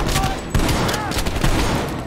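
Shotgun blasts in Call of Duty Black Ops Cold War, a few loud close booms in quick succession, with game noise and a voice underneath.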